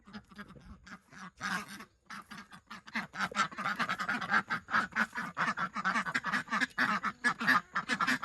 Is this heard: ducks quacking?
yes